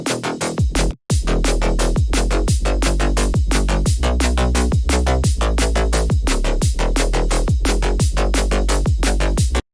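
A drum and bass mix with layered Serum bass, drums and a sub plays loud and dense: rapid breakbeat hits and snares drive over a growling, wide bass. There is one brief silent gap near the start, then nonstop energy.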